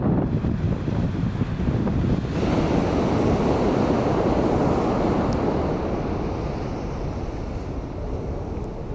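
Ocean surf rolls in loud and continuous, a broad roar of waves washing on the shore at Figueira da Foz beach, with wind buffeting close by.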